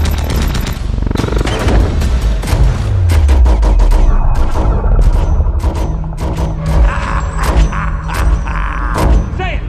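Alien chaser guns blast in a chaotic movie battle, a dense barrage of loud repeated shots, booms and crashes with whooshing sweeps, heavy and continuous for several seconds.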